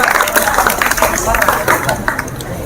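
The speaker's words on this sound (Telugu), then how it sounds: "వెరీ గుడ్, క్లాప్స్ కొట్టండి." An audience claps for a student in a classroom or lecture setting, a short burst of dense, close applause with voices mixed in underneath.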